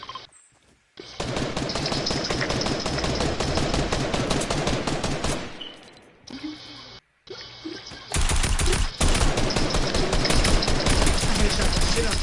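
Fortnite gunfire, long rapid bursts of automatic shots in close succession, cutting off briefly a few times before loud firing resumes, with voices talking under parts of it.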